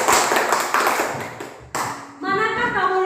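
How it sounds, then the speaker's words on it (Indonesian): Pupils in a classroom give a short burst of applause for a classmate, a quick scattering of claps that rises, dips and returns over a few seconds. "Tepuk tangan untuk Bayu."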